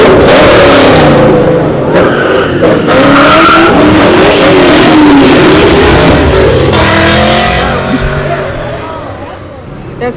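Cars doing burnouts at a car meet, with a Honda hatch and an MK4 Supra among them: loud, sustained engine revving and tire squeal fill the whole stretch, fading slightly at the end, with crowd voices and talk underneath.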